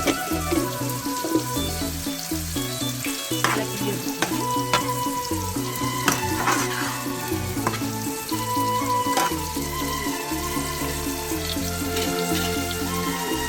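Spices, including turmeric and chilli powder, crackle and sizzle steadily in a hot pan while a utensil scrapes and stirs, with no talking.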